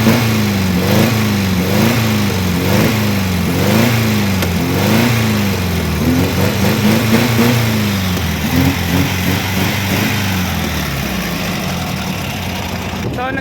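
A 1968 Volkswagen engine with a carburetor and an electronic CDI ignition runs and is revved repeatedly, rising and falling in steady cycles before settling toward idle, loud and close throughout.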